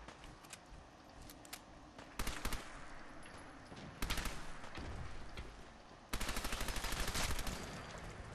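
Submachine gun fire in Fallout 4 against Mire Lurks, with rapid close bursts of automatic shots in several loud volleys separated by brief pauses, over a constant background of game noise.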